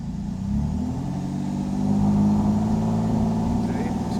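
A Pontiac Fiero engine idles under light throttle, bogging and misfiring: a steady, close, low rumbling drone with an uneven, faltering pulse that swells slightly midway.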